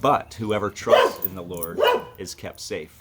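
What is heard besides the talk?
dog barking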